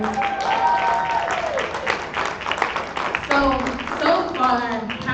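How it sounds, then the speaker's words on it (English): A showcase audience at a music and fashion event gives a round of applause, moderately loud clapping running under a voice and tonal sounds throughout. "So one more time, let's give her a round of applause."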